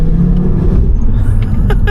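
A 2014 Audi RS Q3 compact SUV with quattro drive accelerates hard as its DSG S tronic gearbox shifts, its engine loud and close with a brief sharp change in note.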